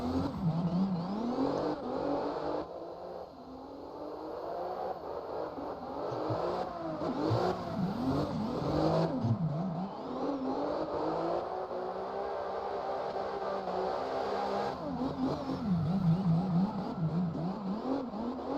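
A BMW E92 with no anti-lag, driven in the CarX Drift video game, revs steadily, its engine note rising and falling as it accelerates and lifts off, loud and continuous with no voices.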